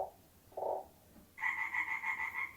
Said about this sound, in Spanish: Ah, era una rana.